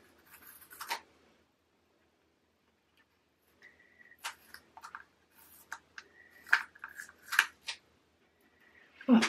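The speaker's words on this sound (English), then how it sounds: "Take the stickers off." Diamond painting stickers peeled off one by one: sharp little scratchy rips and ticks, close and quiet, spaced out in small bursts with pauses between.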